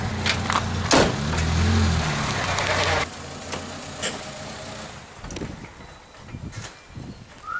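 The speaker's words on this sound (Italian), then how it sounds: "Entro con la macchina là" A car drives slowly into a waste collection site in Siculiana with hazardous-waste bins, its engine a low, steady rumble for the first few seconds before fading under quieter background noise.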